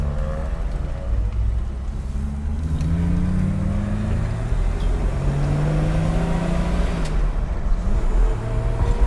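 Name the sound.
1965 Ford Mustang driving and shifting gears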